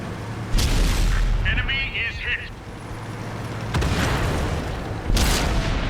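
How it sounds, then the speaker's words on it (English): Artillery fire in World of Tanks, with heavy booming impacts landing at intervals over a constant rumbling battle din, and a sharp blast near the start and another near the end. "Artillery joins in"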